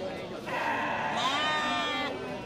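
A male sheep being cleaned at a livestock sale lets out a single drawn-out, wavering bleat, close and fairly quiet.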